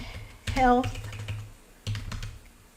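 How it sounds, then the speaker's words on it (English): Someone typing on a computer keyboard, light clicking keystrokes near the microphone, with a person's voice briefly speaking over the start. "Then I'm going to type in"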